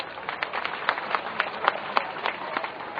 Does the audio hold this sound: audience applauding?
yes